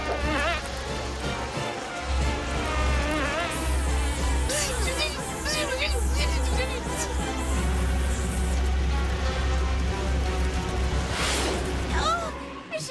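A cartoon swarm of bees buzzes loudly and continuously around a stolen beehive, with a low steady drone and wavering higher whines while voices talk over it.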